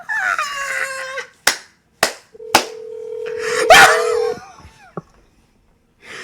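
Telephone dialing to call mom: a few sharp slaps or taps, then a long steady tone followed by a noisy burst, loud and close, with short gaps of silence between sounds.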